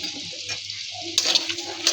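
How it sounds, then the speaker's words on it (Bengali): Shrimp fry in a pan with a constant bright sizzle of oil, joined halfway through by louder scraping and clattering as a spatula stirs them; no speech. "চিংড়ি মাছটা খুব ভালো করে ভেজে নিয়েছি"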